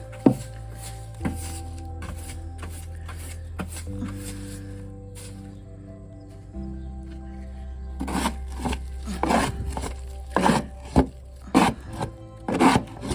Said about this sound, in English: Oh, I should get a little whisk broom and sweep that up.